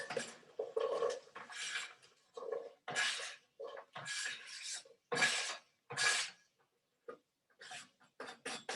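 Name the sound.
onions added to hot shimmering oil in a pot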